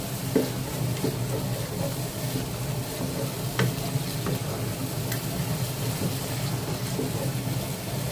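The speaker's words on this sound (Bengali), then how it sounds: "আমি সাদা রসুনটা ভালো মতো একটু বসায় নেব।" White garlic frying in a pan for dal, giving a steady, close sizzle with faint crackles and a few brief sharp pops, and no voices.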